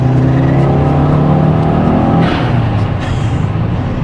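JDM bugeye Subaru Impreza STI Limited accelerating hard in fourth gear, a loud continuous engine drone that climbs steadily in pitch, heard from inside with no talking.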